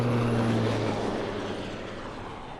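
A Swiss Air Force Super Puma helicopter at an airshow drones past with a loud, steady engine and rotor roar that slowly fades, with a low humming tone at the start.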